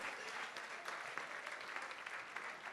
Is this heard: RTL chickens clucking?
no